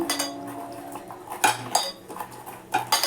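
Shrimp-head paste is worked by hand with turmeric, mustard oil and salt in a bowl, giving soft wet squelching with a few brief clinks of the bowl, close and fairly quiet, with no talking.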